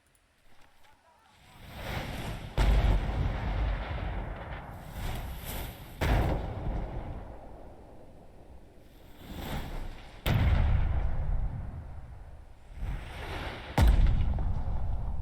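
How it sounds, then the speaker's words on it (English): Artillery shells landing in a barrage in the World War game Burden of Command, heavy booming impacts arriving roughly every few seconds with a rumbling roar between them, loud and continuous. "More shells land, but you're not the only ones getting plastered"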